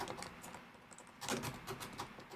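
Quick clicking keystrokes on a computer keyboard, a short burst of typing that is faint and close, with a denser cluster of taps midway and no talking.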